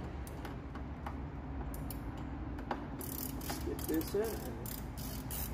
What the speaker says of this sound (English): So I'm using this ratchet 18, so you don't have to keep taking it off and moving it.